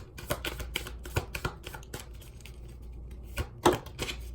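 Cards drawn and shuffled from the Fountain Tarot deck during a reading, a run of soft, papery flicks and snaps, close and fairly quiet, with a sharper slap near the end and no talking.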